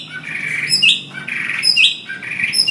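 A hwamei bird sings close and loud in three repeated phrases of rising whistled notes, each ending in a sharp high flourish.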